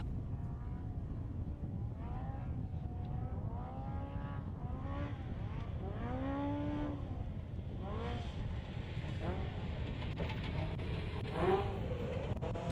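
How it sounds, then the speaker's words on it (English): An off-road race car engine during NORRA Baja qualifying in 2025 revs and shifts gears again and again, sweeping its pitch up and down. It sounds steady and moderately near, with no talk. "Just you can hear everything in that car, everything that's going on. Car sounds great."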